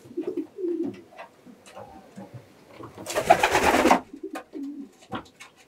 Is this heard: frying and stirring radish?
no